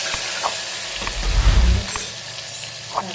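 Ghee sizzling in a hot pan with mustard seeds, cumin and jaggery while tempering dal makhani, a close, steady frying hiss that swells briefly in the middle, with faint stirring.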